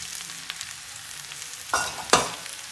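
Green chillies dropped into hot oil with cumin, mustard seeds and turmeric, giving a soft steady sizzle followed by two sharp bursts of spattering as they hit the pan, with faint stirring. No voice.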